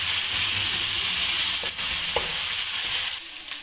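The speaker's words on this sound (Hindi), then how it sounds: "इसमें हम बारीक पिसी हुई अदरक डाल देंगे, इसको भी लाइट ब्राउन होने देंगे।" Finely ground ginger frying toward light brown with garlic for sarson ka saag, a loud, steady hiss and sizzle filling the pan, with a couple of faint stirring taps.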